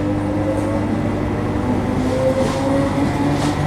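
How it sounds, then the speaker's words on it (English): Steady rumble of an older passenger train in motion from inside a carriage, a constant low drone with faint rattling and squealing tones, no talking. "Chance to ride on one of the older trains."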